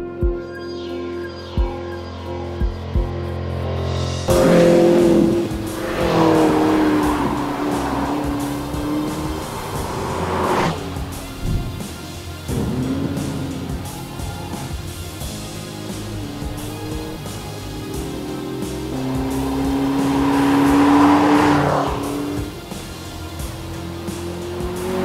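McLaren MP4-12C prototype sports car laps a circuit of tight and fast corners, its engine revving up and down through gear changes as it passes near, loud and rising to a roar, then fading.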